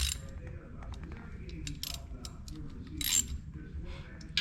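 A 5/8 socket ratchet loosens the drain plug on a Mercury 4-stroke Pro XS outboard motor, making close, quiet clicks and pawl ticks in irregular bursts over low mechanical rumble, with no talking.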